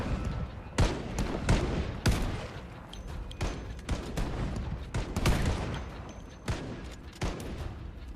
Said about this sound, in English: This bolt-action rifle is putting them down, but there's so goddamn many of them.